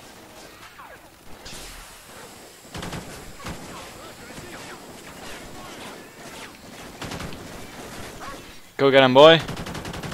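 Gunfire in Call of Duty: Ghosts, a steady stream of overlapping shots and distant bursts running throughout, with a voice speaking over it and a louder burst of noise near the end.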